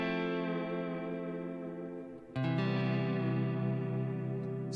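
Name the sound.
electric guitar with chorus effect and tape echo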